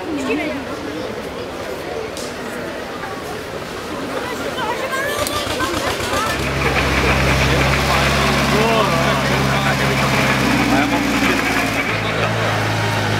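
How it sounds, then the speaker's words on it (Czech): A vintage 1947 Škoda 30 tractor engine runs at an outdoor tractor meet. It settles into a steady, loud, low-pitched drone about halfway through, with crowd chatter in the background. "To byl poslední traktor bez středního náhonu Škoda 30, rok výroby 47"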